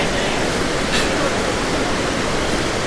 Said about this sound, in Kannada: ಸರಸ್ವತಿ ನದಿ ಹರಿತಾ ಇರೋದು